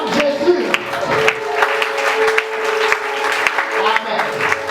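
A church congregation at a Sunday worship service claps and cheers in praise of Jesus, a sustained mass of applause and voices with a steady tone ringing through it, lively and fairly loud throughout.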